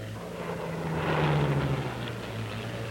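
The engine of a Bell P-39 Airacobra in flight is run up to 3,000 RPM, its steady propeller drone swelling louder mid-way, then settling into a sustained roar.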